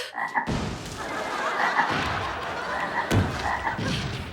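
Frogs croak in a cartoon, a loud, near chorus of repeated throaty croaks that fills the stretch after a short quiet opening, with a couple of soft thumps mixed in and no speech.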